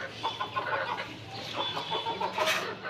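Chickens cluck and mutter in a backyard coop, with doves kept on a shelf above; steady close clucking and a few sharper squawks continue for about three seconds.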